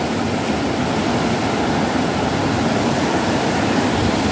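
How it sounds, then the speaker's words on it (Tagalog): Continuous broadband roar of heavy surf, dense and unbroken like crashing water, steady in loudness throughout with no voices. "kasi malalaking alon"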